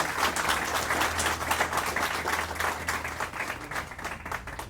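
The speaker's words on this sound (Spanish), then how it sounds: "a quien recibimos con un fuerte aplauso" Warm audience applause welcoming Cardinal Baltasar Enrique Porras Cardoso at the opening of the Venezuelan Episcopal Conference plenary assembly, dense clapping that swells and gradually thins over several seconds.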